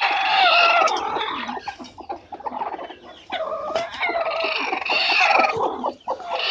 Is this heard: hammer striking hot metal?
no